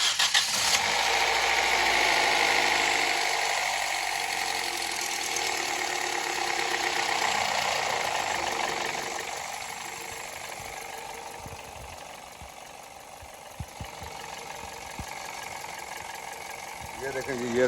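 Toyota Corolla GLI car engine with a sound problem starts and runs steadily at close range, with a broad mechanical roar that eases slightly midway. Voices talk faintly over it.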